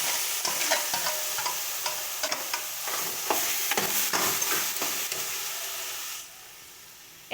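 Taro stirred and fried in a hot wok gives a loud, continuous sizzle with repeated scraping strokes of the spatula, then the frying quietens toward the end.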